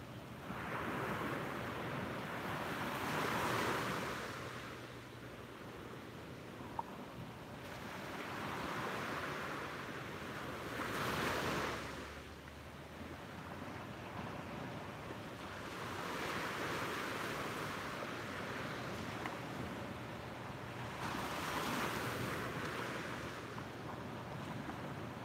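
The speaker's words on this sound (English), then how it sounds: "listen to the sound of the waves a few more times" Ocean surf rolling onto a beach at sunrise, a steady wash of breaking waves swelling and receding in slow cycles, with wind buffeting the microphone throughout and no voices.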